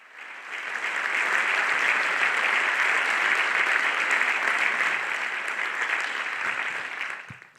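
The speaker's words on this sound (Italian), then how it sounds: "accogliamo con un applauso ancora più caloroso Valentina Mastroianni." An audience greets a guest with warm, sustained applause that swells quickly, holds as a dense steady roar of clapping, then fades out near the end, with no talking.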